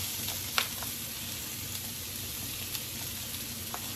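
Peppers and onions sauté in garlic butter, giving a steady, faint hiss of sizzling with a few light clicks and stirring touches scattered through it.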